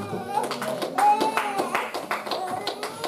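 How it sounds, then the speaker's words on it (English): Church congregation clapping hands during a sermon, a quick run of rhythmic claps close by with voices and singing mixed in. "Clap your hands and celebrate God."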